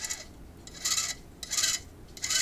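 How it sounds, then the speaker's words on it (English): A vintage Silvertone T2 Egyptian radio's dial mechanism turns with a dry scraping rasp that comes in three or four close, fairly loud bursts, with no voices. "Just turning our little motor here."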